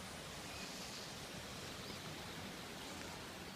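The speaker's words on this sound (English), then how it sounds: "with the rain, everything's starting to overflow. Here we are, the water's really flowing." A rain-swollen stream flows strongly near a footpath, making a steady, dense rushing roar with no breaks, heard alone at a fairly even, moderate level.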